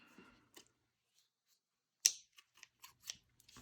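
Scissors snip through crochet yarn in a few sharp, close cuts, one louder snip followed by several lighter clicks in a quiet room.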